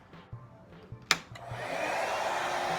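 A RevAir hair dryer for natural hair starts after a few faint clicks and a sharp switch sound, then runs as a loud, steady airy whoosh.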